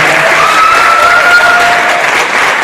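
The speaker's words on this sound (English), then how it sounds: "I would give these guys another round of applause." Loud, close applause at the Alpha Beautillion event, a brief burst of dense clapping with a faint whistle or cheer mixed in.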